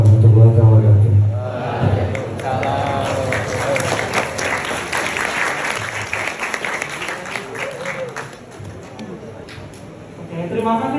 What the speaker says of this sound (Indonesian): Tepuk tangan lagi sekali buat Pak Arifudin ya